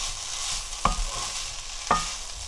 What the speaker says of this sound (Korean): 뜨거우니까 골고루 무쳐주는 거지